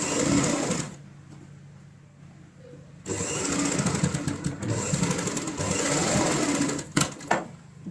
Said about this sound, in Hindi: इसके बाद हमने जितना भी दबाव लिया था उतना ही दबाव रखते हुए यहाँ पे सिलाई लगाएंगे